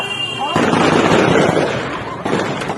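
Dense, continuous crackling bursts of rapid gunfire at a polling booth in Manipur during the 2024 election fill the clip, loud and sustained, with a brief renewed surge near the end.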